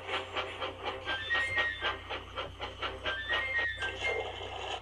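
Rhythmic chugging of a steam train, steady repeated puffs with a clickety-clack rhythm, continuous and fairly close, no voices.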